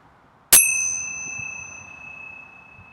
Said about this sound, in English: preparing to open your eyes as I ring the bell.